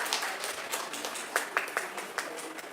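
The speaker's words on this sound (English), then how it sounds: "Big rounds of applause to Ambika ma'am." Scattered applause from an audience at a school valedictory function as a co-founder is welcomed on stage, fairly faint and thin, with a few sharper nearby claps standing out and some background voices.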